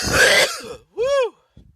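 A single cough or throat-clearing burst, loud and close, with a short voiced, tonal tail about a second later, then a faint rustle.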